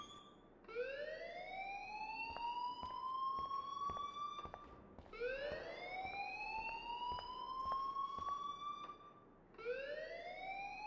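Fire alarm in the video game Life Is Strange wails in three rising siren sweeps with a steady repeating rhythm, fairly faint and alone.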